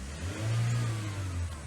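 Car engine running steadily after oil was added, a close, loud, low hum that rises slightly as if revved, then settles back toward idle.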